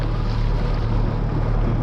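Four-stroke 9.9 hp outboard motor pushing a boat, a steady close engine drone and low hum mixed with wind buffeting and water rush, constant throughout with no voices.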